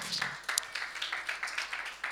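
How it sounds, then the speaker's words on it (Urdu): A church congregation applauding during a Sunday service, a steady patter of many hands clapping at a moderate distance with no talk over it. "یسوع مسیح کے لیے تالیاں بجائیں"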